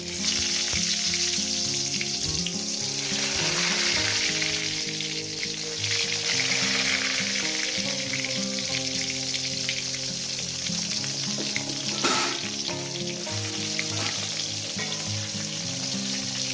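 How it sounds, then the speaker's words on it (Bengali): Pieces of brinjal frying in hot oil in a wok give a loud, continuous sizzle that holds steady throughout, with music playing underneath and no talking. "তেলটা আমার গরম হয়ে গেছে বন্ধুরা আমি এক এক করে বেগুনের পিসগুলো দিয়ে দেবো"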